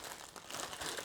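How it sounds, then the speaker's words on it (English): A plastic bag crinkles as it is pulled over a motorcycle exhaust to seal it for long-term storage: a close, continuous rustling and crackling throughout, with no voices. "get a plastic bag,"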